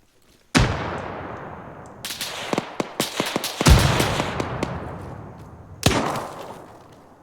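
A frag grenade blast and gunfire in the military game Arma 3: a sharp loud explosion, then a rapid scatter of shots and cracks, another heavy boom and a final loud report.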